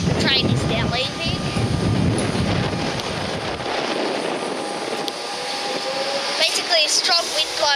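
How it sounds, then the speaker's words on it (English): A train rumbles and clatters as it pulls away from Westall station in Melbourne in strong wind, with a person talking over the noise and faint squeals rising near the end. "The train is now leaving."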